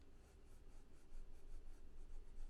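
Arteza watercolor pencil scratching and rubbing across plain paper, a steady, fairly close gritty scribble in continuous back-and-forth strokes with no voices.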